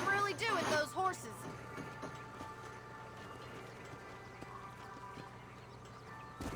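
Horse hooves clip-clopping in the Red Dead Redemption western video game, a quick run of hoofbeats at the start that fades into a steady bed of game music and ambience.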